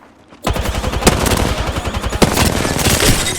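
Loud, rapid automatic gunfire in Apex Legends starts after a brief quiet moment and continues as a dense, continuous burst with a few sharper shots standing out.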